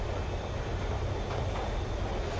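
Steady low rumble of a passenger train riding at night, a continuous rolling drone with faint rattling on top, close and even throughout with no talking.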